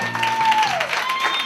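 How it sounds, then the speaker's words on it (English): An audience applauds performers on stage at the end of a 2008 Q&A event. A brief, even burst of clapping runs under a faint steady tone. "one more big round of applause for everyone on the stage"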